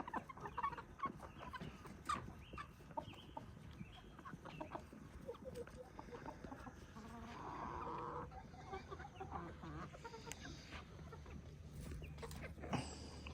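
A backyard flock of chickens with roosters, including a golden Wyandotte, clucking and murmuring close by in a busy overlapping chorus, with scattered sharper calls and scuffling.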